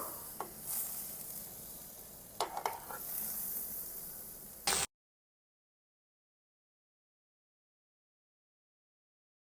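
Butter melts and sizzles faintly in a pan, a soft hiss broken by a few clinks of a utensil against the metal, ending abruptly in silence halfway through.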